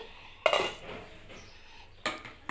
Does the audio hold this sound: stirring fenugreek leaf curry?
yes